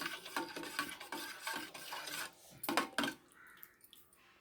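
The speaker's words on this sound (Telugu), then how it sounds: "బాగా మిక్స్ చేసుకొని" A spoon stirs and mixes salted food in a cooking pot, giving a run of close scraping, clinking strokes in an uneven rhythm that fade to softer, sparser taps at the end.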